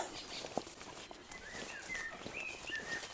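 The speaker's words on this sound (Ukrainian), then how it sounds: "Соловейко співає, заливається." A nightingale sings at night, giving faint whistled phrases and trills at a distance over a quiet, murky background with a few soft knocks and bumps.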